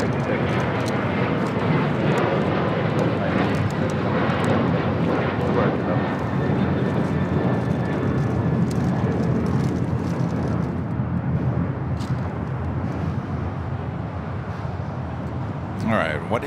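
A jet airliner takes off at LAX with a continuous, loud, broad engine roar that holds steady throughout, and radio chatter and voices talking over it.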